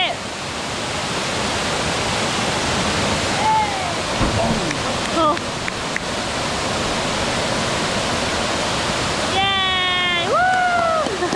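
A waterfall in a canyon in the Philippines roars as a loud, steady, close wash of rushing water, with brief shouts and excited voices rising over it.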